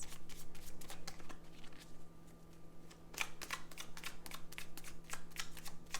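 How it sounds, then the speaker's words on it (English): Tarot cards being shuffled and laid down, with rapid riffling bursts and soft slaps repeating across the stretch, close and fairly quiet over a steady low hum, no talk. "let's lay down these side cards."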